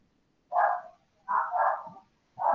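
A dog barks behind the people talking, giving one short bark, then a doubled bark, then another, each a mid-pitched clear yap with quiet gaps between.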